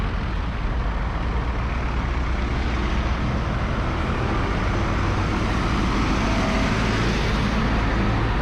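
Steady, loud roadway traffic noise heard from the middle of a road in Latrikunda, Gambia, with trucks and cars rumbling past continuously and an air brake hiss among the dense, unbroken wash of engines.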